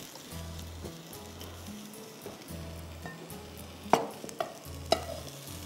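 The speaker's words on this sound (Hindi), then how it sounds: "अच्छी तरह से मिक्स कर लीजिए" A spoon works through a mixed vegetable achar in a pan, giving soft scraping strokes over a low sizzle, with a few sharper clinks of utensil against metal near the end.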